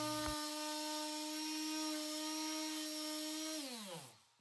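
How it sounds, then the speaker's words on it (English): A palm sander whirs steadily at high speed on a walnut bow tie inlay, a sustained close-up motor whine that drops in pitch and winds down near the end before a small knock. "I am going to grab a palm sander after and just kind of polish everything up and clean it up"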